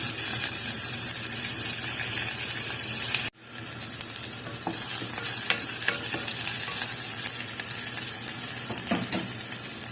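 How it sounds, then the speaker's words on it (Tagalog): Garlic and onion sauté in a hot pan for beef and broccoli, giving a loud, continuous sizzle over scraping stirring strokes and broken by a brief sudden gap partway through. "Igisa lang po natin ang mabuti ang ating bawang at saka sibuyas."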